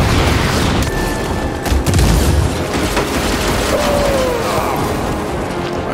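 Pistol shots ring out in the video game Evil West: a few sharp booming reports and pops over a dense, noisy game soundscape, with brief bursts clustered near the middle.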